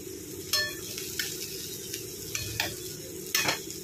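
Cooked gavar (cluster bean) dry bhaji being scooped from a pan with a spoon, giving a few soft scrapes and clinks over a faint sizzle, close up with no talk.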